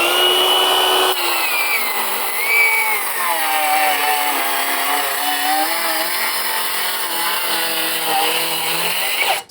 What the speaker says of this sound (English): I'm just gonna run a couple rips, cutting through this knot, cutting through some hardwood here